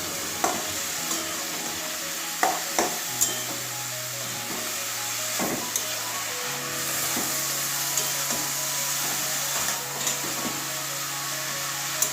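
Cabbage stir-fried with spices in a pan, soft steady sizzle under repeated scraping knocks of a spatula stirring at irregular intervals, close up with no talking.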